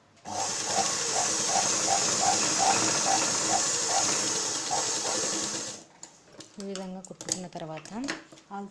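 Sewing machine stitching a blouse seam, a steady close whirring with a fast rhythmic needle pulse for about six seconds, then it stops and a voice talks briefly.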